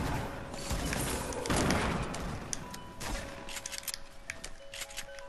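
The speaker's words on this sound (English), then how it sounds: "I hear shots this way." Gunshots ring out in a video game, a dense burst of rapid cracks and metallic clatter that is loudest early on and then thins into scattered sharper reports and clicks, at moderate distance with no voices.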